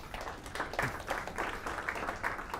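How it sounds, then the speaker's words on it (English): An audience at a business conference claps together, a steady patter of many hands that swells briefly and holds, with no voices over it. "So a warm round of applause, everyone, for Amor."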